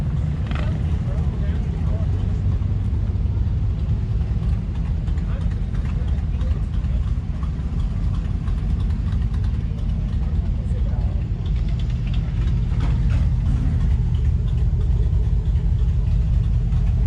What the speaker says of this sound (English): And a big blown engine sticking out of the hood.